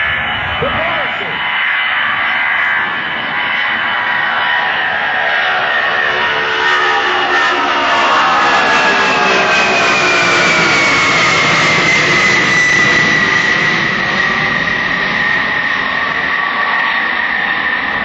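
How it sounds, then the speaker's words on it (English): A C-5B Galaxy military transport aircraft flies past at an airshow, its loud, steady jet roar swelling and sweeping in pitch as it passes close overhead, with a public-address announcer talking over it. "That is a big airplane."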